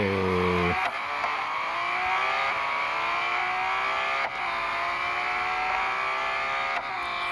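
A 2021 Porsche 911 GT3 pulls hard on a circuit straight, its engine note climbing steadily in one long gear after a quick early shift, loud and close throughout with no voices.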